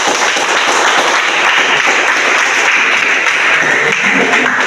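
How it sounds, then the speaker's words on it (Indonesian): An audience claps and applauds at an Islamic jurisprudence lesson on funeral rites, a dense, steady wash of many hands clapping at full volume for several seconds, with no voices over it. "Kita berikan aplaus"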